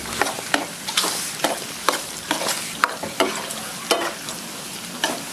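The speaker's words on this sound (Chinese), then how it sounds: "这猪肉呢，给它靠出猪油啊，下入葱姜" Pork frying in oil with scallion and ginger in a wok, a steady crackling sizzle broken by sharp, regular scraping strokes of a spatula stirring the pan, close and fairly loud with no talk.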